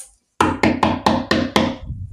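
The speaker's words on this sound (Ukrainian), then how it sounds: "Хто мені в двері стукає вночі, що за бред?" Six sharp, evenly spaced knocks on a door in the video game Chicken Gun, loud and close after a brief silence, each hit followed by a short decay.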